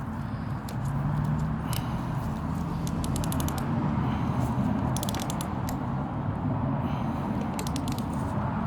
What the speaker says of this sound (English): So the torque wrench is going in the right direction.